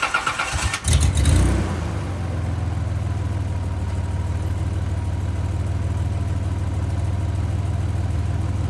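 A Nissan 300ZX engine cranks briefly and fires up, then settles into a steady, rumbling idle that runs on loud and close.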